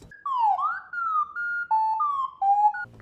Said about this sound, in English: We use math to pick random frequencies, so it sounds like droid is actually thinking or muttering to itself